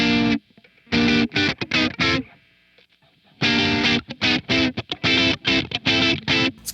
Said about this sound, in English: a 59 Bassman, into a Fender Supersonic cab with 4x12 Celestion Vintage 30s